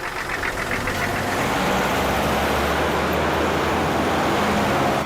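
A car engine runs steadily and loudly close by as the car pulls away, a continuous low rumble with road noise throughout and no talk.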